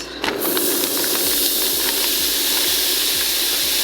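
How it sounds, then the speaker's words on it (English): Frozen onions and peppers hit a hot skillet to deglaze it in a one-pot Marsala beef mushroom pasta, a loud, steady, broadband sizzle and hiss that fills the whole stretch, close and with no talking. "The onions and the peppers that are frozen are gonna deglaze all of that"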